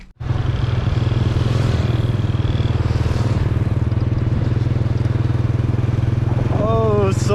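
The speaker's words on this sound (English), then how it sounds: "rent a motorbike and cruise to the Plain of Jars" A rented motorbike rides through rural Laos with a steady, loud engine drone and wind rush throughout, and a voice rises briefly near the end.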